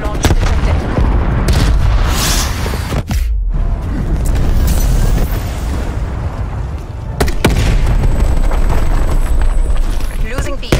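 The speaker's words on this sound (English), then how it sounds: "Enemy cruise missile launch detected." A loud explosion from an enemy cruise missile strike in the video game Call of Duty: Black Ops Cold War, with heavy rumbling blasts and sustained booming through the clip, mixed with game audio and talk.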